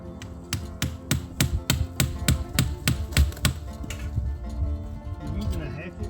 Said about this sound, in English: I'm using a hatchet for this.